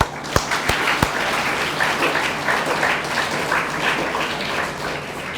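A round of applause from an audience at a career guidance session, greeting a volunteer who read from a screen; dense, steady clapping fills the room with a few sharp louder claps near the start.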